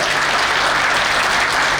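An audience at a college alumni meet applauds loudly, a dense, sustained wash of clapping from a large crowd, close and continuous throughout with no voices over it.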